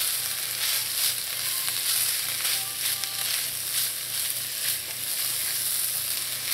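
Baby spinach sizzles and fries steadily in a hot frying pan, with a continuous crackling hiss and occasional soft stirring, no voices.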